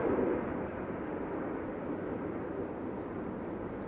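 A KLM Boeing 737-800 takes off at Amsterdam Schiphol, its jet engines a steady distant broadband roar, slightly stronger at the start, with no voices.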